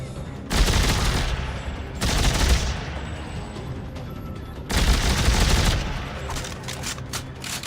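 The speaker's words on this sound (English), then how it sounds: "Gotta love this burst rifle." A burst rifle in the video game Dead Space 3 fires in three loud, clustered volleys, each a rapid string of shots followed by a short pause, with game ambience between them.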